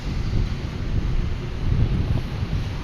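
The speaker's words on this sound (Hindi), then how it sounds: "बहुत ही प्यारी सी हवा चल रही है" Steady wind blowing outdoors, a loud, continuous low rumble buffeting the microphone with no other sounds.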